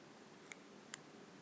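Two quick, faint snips of small scissors cutting fly tying material, alone over a quiet background hiss.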